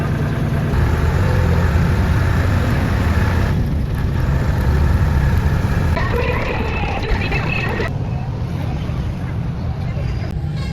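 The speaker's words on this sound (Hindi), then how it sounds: "ये बस है जिसपे हमने लाहौर जाना है" A bus engine idles steadily on the way to Lahore, loud and continuous, with background voices and crowd chatter over it.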